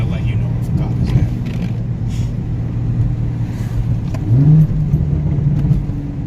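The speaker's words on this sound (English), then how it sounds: "Oh, that exhaust sounds really good too." Exhaust of an Audi B5 S4 twin turbo with 3-inch straight pipe and 3-inch downpipes, a low steady burble near the listener with a brief rise in pitch toward the end, heard under ongoing conversation.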